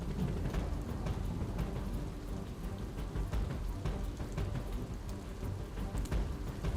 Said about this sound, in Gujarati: ભાવનગરના મહુવા શહેરમાં અને ગ્રામ્ય વિસ્તારોમાં પણ ભારે વરસાદ પડ્યો